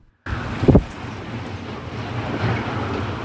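Strong storm wind roars steadily against the microphone, with a brief sharp gust early on, in Gaziantep, Turkey.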